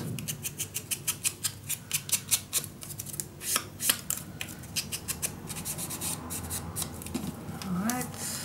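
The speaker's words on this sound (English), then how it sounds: "So I'm just gonna cut another piece that fits exactly in here." Scissors snip repeatedly through a piece of paper for a mini album cover, a fast run of crisp close cuts that slows and fades into faint rustling near the end.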